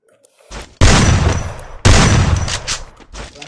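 Gunfire from a weapon in the Free Fire mobile game, two loud close bursts of rapid shots, each ringing out and decaying before the next, with no talk.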